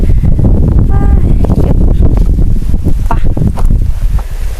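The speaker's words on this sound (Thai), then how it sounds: "ตอนนี้ก็ลมเย็นแห้งขนาด ลมแห้งขนาดเลยทุกคน" Cool, dry wind blows steadily across an outdoor farm garden in rural Thailand, a loud, constant broadband rush buffeting the microphone, with occasional brief rustles and faint clatters underneath.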